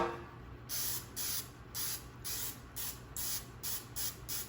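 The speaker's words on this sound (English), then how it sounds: "I'm gonna spray our pan, a little Pam." Several short bursts of hissing Pam cooking spray onto a pan, one after another in a steady rhythm, close by with no talking.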